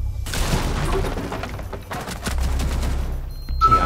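A dense burst of rapid gunfire in the video game Rainbow Six Siege rattles continuously for a few seconds, then gives way to deep rumbling booms and a brief electronic tone.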